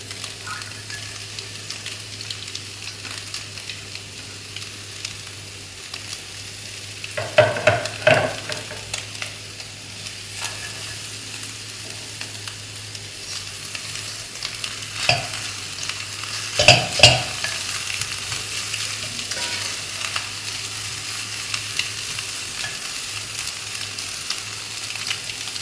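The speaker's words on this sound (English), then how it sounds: "Now we're going to add in the cabbage." Cabbage being stir fried for Malaysian Maggi goreng, curry-flavour instant noodles: a steady low sizzle runs throughout, with a few louder clattering stirs around the middle and again near the end.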